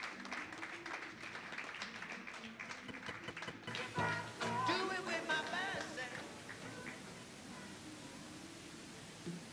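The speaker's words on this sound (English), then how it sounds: "please give us a last round of applause for John Masouri" An audience at a Reggae University talk about Bob Marley's Wailers breaks into applause after a quiet start. The clapping swells, mixes with some voices and cheering, then settles into a lighter patter.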